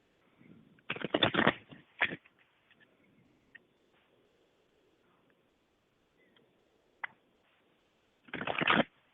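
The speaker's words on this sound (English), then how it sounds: "Let me shuffle." Cards being shuffled by hand in a quiet room, two close riffling bursts at the start and another at the end, with soft handling clicks in between.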